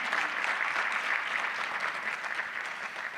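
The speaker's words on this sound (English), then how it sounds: "So let's give a round of applause to him" Audience applause at a community event introducing new police officers, honoring a local pastor: a dense, steady wash of many hands clapping at even volume throughout, with no voices on top.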